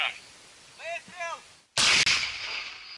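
A single sharp, loud explosive blast as a shell hits a BMP armored vehicle after a few faint voice-like sounds, followed by a sustained roar and rumble that slowly fades.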